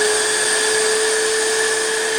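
A Metabo 18V cordless M-Class vacuum cleaner, model ASR36 18 BL 25 M SC, runs steadily on its second power level, giving a loud, even whine with a constant high tonal hum and no pauses.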